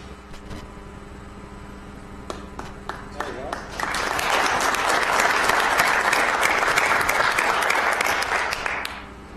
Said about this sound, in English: You guys really deserve that round of applause.